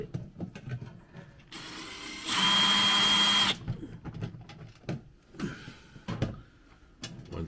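A cordless drill or power screwdriver whirs loudly for about a second to back screws out of a stove wind cover on an overland trailer, surrounded by quieter handling clatter and shuffling.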